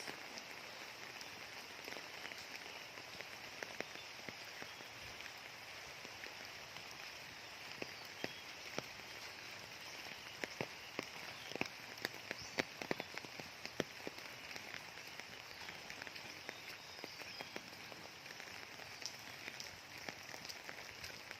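Heavy rain pours down steadily in Pangasinan, Philippines, a dense hiss dotted with scattered drops tapping on nearby surfaces, with no voices.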